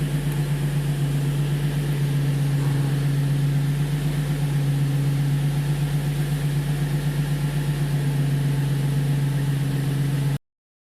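An Infiniti G35 / Nissan 350Z engine idles while coil packs are checked for a random misfire, a steady, close mechanical hum with an even low throb that runs unchanged for about ten seconds before cutting off.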